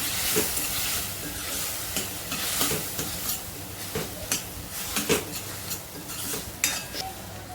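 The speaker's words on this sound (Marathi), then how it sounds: "गरम मसाला टाकायचा आहे एक चमचा हे सर्व मिश्रण मिक्स करून घ्यायचे व्यवस्थित मिक्स करून करून घ्यायचे" A spoon stirs garam masala into a sizzling spice and moth bean mixture in a pan, with irregular scraping clinks over a constant frying hiss.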